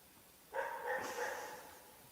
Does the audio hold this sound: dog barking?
yes